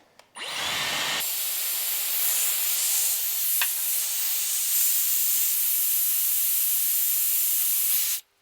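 A Dyson Airwrap curling hair starts with a brief rushing burst, then blows a loud, steady high-pitched whoosh of air that holds evenly before cutting off abruptly at the end, with no talk.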